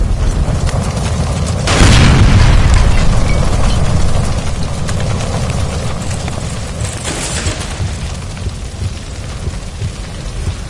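A gas line explodes after being shot in L.A. Noire, giving a loud booming blast followed by a long rumbling roar. The roar fades into a steady crackling wash, and a second, weaker burst comes a few seconds later.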